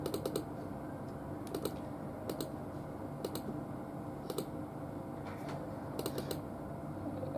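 Someone types quickly on a computer keyboard to enter an email address while setting up a Hikvision eDVR DS-E04HQHI-B. Bursts of close, crisp key clicks sound over a steady background hum.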